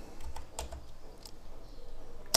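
Typing on a computer keyboard to enter a terminal command on a Linux computer, heard as a few soft, scattered key taps close by and ending in one sharper, louder keystroke.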